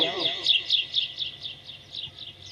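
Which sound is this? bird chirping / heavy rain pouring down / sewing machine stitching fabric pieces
bird chirping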